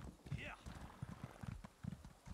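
Soft, rhythmic hoofbeats of a horse in The Elder Scrolls Online clop along quietly beneath people talking.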